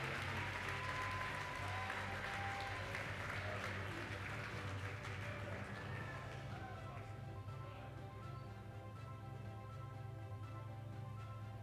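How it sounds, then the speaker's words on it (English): An audience applauds an honored employee, a teacher of 40 years, at an educator salute ceremony; steady, dense clapping fills the room throughout and eases slightly toward the end. "let's give a heartfelt round of applause for this honored employee, Elaine Combs, teacher, Northridge Elementar"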